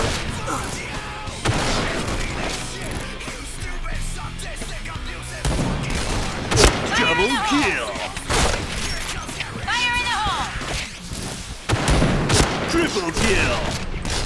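Rapid sniper shots from an AS50 rifle in PUBG, a dense run of loud cracks with echoing tails and some shattering impacts, while a voice talks over the gunfire.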